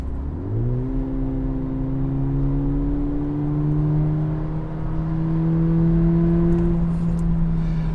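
A Volkswagen Polo GTS engine revs up sharply at the start and then holds a steady, rising drone for several seconds, loud and close, with no talking over it.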